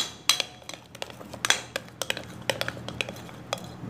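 Puto batter being mixed in a bowl at home, a spoon or whisk clinking and tapping against the bowl in quick irregular strikes, close and fairly quiet, with no voices.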